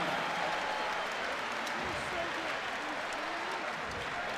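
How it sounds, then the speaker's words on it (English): Arena crowd at an Indiana men's college basketball home game against Morehead State cheers and applauds in a steady, dense roar that holds throughout, with faint voices mixed into the din. "listen to this crowd"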